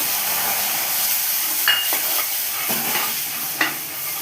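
Food frying in a pan with milk about to be added, stirred steadily, a soft continuous sizzle broken by a few scraping strokes of the spoon, close and moderately quiet, no talking.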